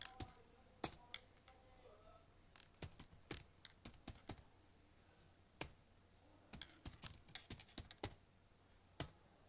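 Programming code is typed on a computer keyboard in quiet bursts of crisp key clicks, some isolated and some in quick runs, close to the microphone with no one speaking.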